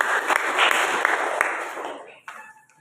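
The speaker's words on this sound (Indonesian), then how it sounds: "Tepuk tangan buat Yesus." A church congregation at an Indonesian evangelistic service claps for several seconds. The clapping is loud and close, fades out near the end, and a brief voice follows.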